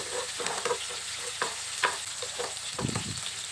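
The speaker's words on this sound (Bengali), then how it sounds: "আমি আদা রসুন কুচিটা খুব ভালো করে ভেজে নেব।" Chopped garlic and ginger sizzle in a pan while a spoon stirs them. Short scraping strokes and crackles sound close and fairly loud over a continuous frying hiss.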